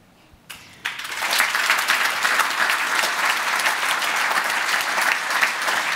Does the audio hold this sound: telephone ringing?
no